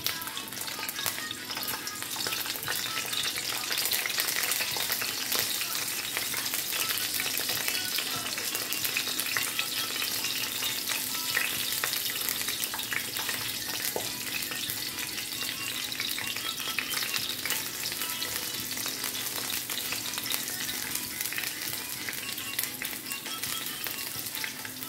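Red onion frying in hot oil in a frying pan, a steady dense sizzle that runs loud and even throughout, with occasional stirring scrapes.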